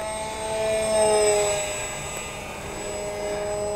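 A radio-controlled EF-2000 model jet flies in slow circles overhead, its engine whining in a steady high-pitched tone that swells as it passes closer and then fades slightly, with no talking.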